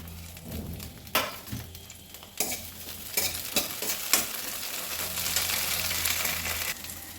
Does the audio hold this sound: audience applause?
no